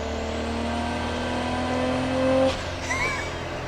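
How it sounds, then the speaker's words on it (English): A modified 1995 Nissan Skyline R33 GT-R's turbocharged six-cylinder engine pulls with a rising whine that builds loudly, then a sharp hiss of released air as the throttle lifts, heard from inside the car. "You hear that turbo like."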